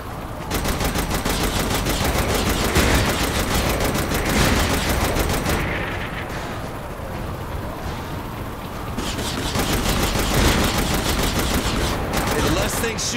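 Turret gunfire in Saints Row: The Third, sustained rapid automatic bursts that keep up almost without pause and briefly ease midway, loud and dense and mixed with explosions and game effects.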